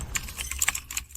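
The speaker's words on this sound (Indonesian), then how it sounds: "Will, kamu sudah mengetik di sini selama lebih dari 10 menit." Rapid keystrokes on a computer keyboard, close and crisp, with irregular clicking taps and no talking.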